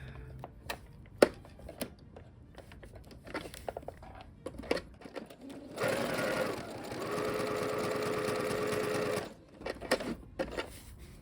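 A sewing machine stitches roman shade fabric in one steady burst of about three and a half seconds, a close mechanical whirr framed by soft handling clicks and rustles of cloth before and after.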